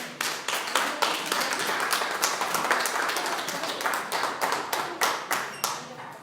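A church congregation claps together in loud, dense, rhythmic applause, many hands striking at once in a fairly steady beat that fills the whole stretch.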